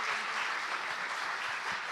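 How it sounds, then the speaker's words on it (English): A dense, even wash of audience applause fills a keynote event hall for the panelists, with many hands clapping together at a steady level and no single claps standing out. "let's give a round of applause for our panelists"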